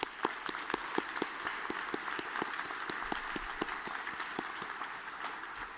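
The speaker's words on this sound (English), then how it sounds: "So let's give them one more round of applause," Audience at a university honors ceremony applauding, a steady wash of many hands clapping in a large room with sharper individual claps standing out, moderately loud and sustained throughout.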